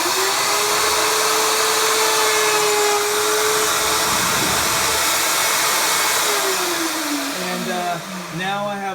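A router on a sliding, tilting router table cutting wood to form a zero clearance fence, a loud, steady motor whine with a shifting cutting tone, then the motor spins down near the end.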